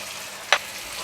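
Fish stir-fried in a pan with ginger and parsley stems gives one short, fairly loud sizzling scrape from the stirring, then quiet.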